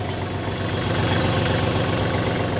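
The engine of a Kubota GT23 tractor idles steadily and smoothly, a continuous close low rumble with an even mechanical patter and no other sounds over it.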